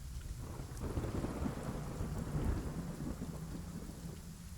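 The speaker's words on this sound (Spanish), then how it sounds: "Otra vez está lloviendo." Rain falls steadily during a storm as a low rumble of thunder rolls through, fairly faint and distant, with no voices.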